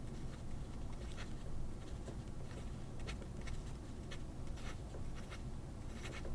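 A Pilot pen scratches and taps across paper in quick, close strokes, steady and continuous throughout with no talking.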